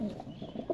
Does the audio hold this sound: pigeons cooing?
yes